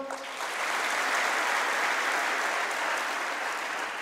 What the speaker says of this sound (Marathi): जोरदार टाळ्यावर एकदा डबल